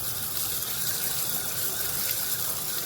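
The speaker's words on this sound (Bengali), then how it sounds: "দাঁড়াও আগে ভালো করে মাছটা ধুয়ে নিই।" A hilsa fish is rinsed under a running tap. The water gushes in a quiet, continuous, even splash with no voices.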